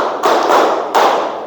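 A group of students claps in unison in a classroom, two loud, dense bursts of clapping close together, near and full.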